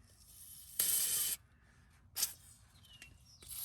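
Two short hisses of spray grease applied to a Polaris RZR Pro XP, the first lasting about half a second and the second briefer, close but quiet against a faint background.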